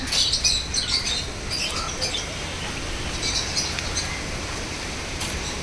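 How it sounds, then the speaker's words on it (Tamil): Lovebirds and parrots in an aviary at a festival in Courtallam chirp and tweet in quick, overlapping bursts over a steady hiss of background noise, moderately close. "இங்க லவ் பேர்ட்ஸ் லவ் பேர்ட்ஸ் கிளியா எல்லாம் வெரைட்டி வெரைட்டி கிளியாக இருக்குமாக்கா"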